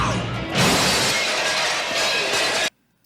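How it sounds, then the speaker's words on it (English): Glass shatters as a phone smashes into it, a loud bright crash followed by scattering, tinkling shards for about two seconds before cutting to silence. "Crybaby ends up breaking the glass with a phone"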